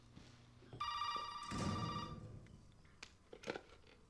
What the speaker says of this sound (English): Now we can hear the phone ringing